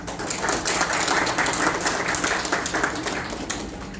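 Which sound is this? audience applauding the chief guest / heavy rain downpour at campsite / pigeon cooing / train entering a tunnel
audience applauding the chief guest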